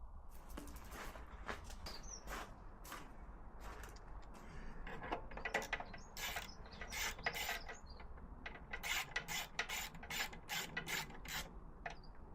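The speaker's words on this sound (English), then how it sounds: "Tank's priming, so let's get the bolts back in." Ratchet clicking in repeated bursts while tightening the fuel tank bolts on a Yamaha WR125X motorcycle, close and fairly quiet, with short pauses between runs and faint outdoor background.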